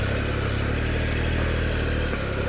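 A Triumph Explorer XCa adventure motorcycle engine chugs at low revs on a trail, a close, loud, steady rumble with a slight rhythmic throb.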